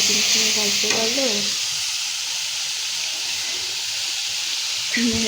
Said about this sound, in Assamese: ইয়াতে এতিয়া মই সিজাই থোৱা আলুখিনি দি দিলোঁ।